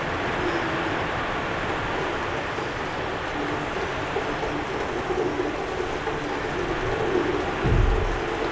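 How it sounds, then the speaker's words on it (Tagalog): Heavy rain pours steadily and loudly outdoors in cold weather, a dense continuous hiss with a brief low rumble near the end, no voices. "malakas ang ulan"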